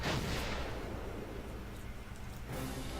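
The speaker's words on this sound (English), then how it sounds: "That was probably the explosion we heard." A tank attack explosion in the Valkyria Chronicles video game rumbles as a sustained, fairly faint blast and roll of low booming, with a sharper burst near the start and another swell near the end, with no voices.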